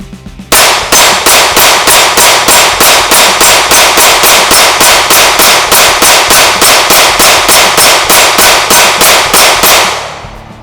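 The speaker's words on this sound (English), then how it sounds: "Just going to dump this magazine and burn the target down so you guys can see how it reacts to 115 grain rounds hitting it" A rifle empties a magazine of 115 grain full metal jacket rounds into a steel target about ten yards away: around thirty loud, evenly spaced shots in steady rapid rhythm, each with a sharp crack and ringing impact, ending abruptly.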